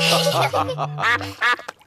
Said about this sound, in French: Papa Pig a retrouvé la mare des canards.